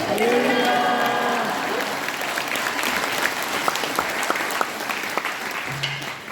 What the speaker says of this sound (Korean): 큰 박수로 맞이해 주시길 바라겠습니다